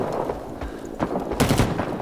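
Gunfire in Rising Storm 2: Vietnam, with a dense burst of rapid shots near the middle and end, heard close and loud over a steady battlefield din.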